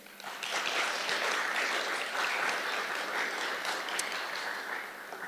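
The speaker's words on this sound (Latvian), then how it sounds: "Aplausi." A forum audience of local community groups claps for a vocal ensemble and its leaders, an even, moderately distant round of applause lasting about five seconds and tapering slightly at the end.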